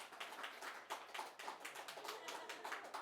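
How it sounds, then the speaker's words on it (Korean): A small church congregation claps rhythmically in a steady, evenly spaced beat, faint and somewhat distant, with roughly two claps per second. "박수 치네."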